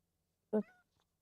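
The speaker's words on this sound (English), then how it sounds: "She gave a little meow." A pet cat gives one short, soft meow, close and clear in an otherwise quiet room.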